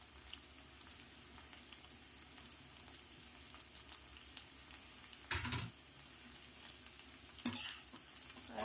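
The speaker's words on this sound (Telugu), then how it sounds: "కరివేపాకు వేగుతుంది" Curry leaves and green chilies frying in hot oil for a Telugu ivy gourd (dondakaya) fry, a steady soft sizzle with two louder bursts of stirring or spattering partway through.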